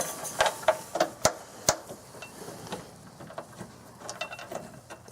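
A Loctite-treated upper bolt is turned on a towing hitch being installed on a 2001 Infiniti QX4, giving faint, irregular metallic clicks and ratcheting ticks in a quiet space.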